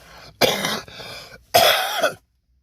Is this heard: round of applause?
no